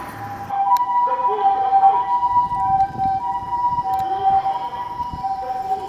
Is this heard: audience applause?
no